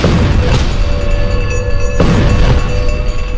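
Two heavy booming blasts land about two seconds apart, each a sharp broadband burst over a constant loud rumbling roar.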